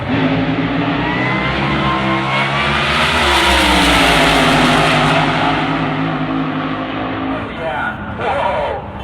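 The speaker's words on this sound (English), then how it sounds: "he brings the revs up just like an alcohol funny car" Alcohol-style drag racing funny car of Rich Nasby at Tucson Dragway, engine held at loud, steady high revs for several seconds, close and roaring before easing off at the end.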